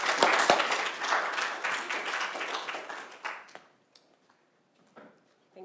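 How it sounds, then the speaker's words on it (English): An audience at a conference talk on gender empowerment gives a big hand of applause, dense clapping that gradually thins out and dies away into near silence, with a few stray claps at the end. "big hand of applause"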